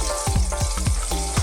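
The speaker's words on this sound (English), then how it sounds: "That's fantastic, sizzling away nicely." Greek-style ground beef stuffed eggplant sizzles hard in a hot pan, a dense close hiss punctuated by rapid, irregular crackles and pops with no voices.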